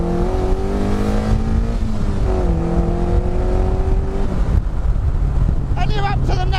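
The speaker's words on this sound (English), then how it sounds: "second gear pull. Here we go." A 140-horsepower Indy RX-5 Aerorace sports car, built from an MX-5 Miata, accelerates hard in second gear, its loud engine note climbing steadily in pitch for several seconds before shifting, with wind buffeting the microphone and a voice around it.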